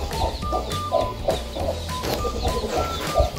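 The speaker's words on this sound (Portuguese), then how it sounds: "Tem uma galinha aqui com os pintinhos, olha que lindeza." A hen clucks steadily among her chicks at a rustic rural smallholding, repeated soft clucks and faint peeps in a close, busy rhythm with no talk.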